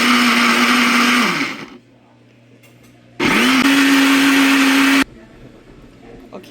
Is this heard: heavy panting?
no